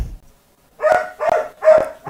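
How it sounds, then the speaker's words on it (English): A dog close by barks loudly three times in an even rhythm, and a fourth bark begins at the end. "Your dog."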